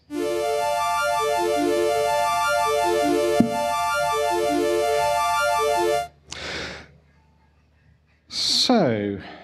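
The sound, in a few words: sped-up synth arpeggio effect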